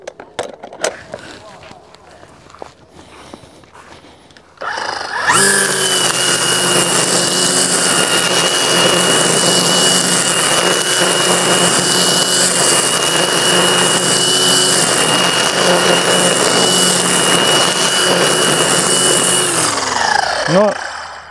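Greenworks string trimmer, a powerful model, spins up after a few quiet seconds with some background noise, then runs with a loud, steady high whine for about fifteen seconds before winding down at the end.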